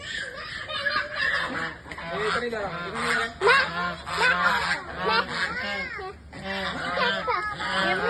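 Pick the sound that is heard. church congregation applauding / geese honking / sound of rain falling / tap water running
geese honking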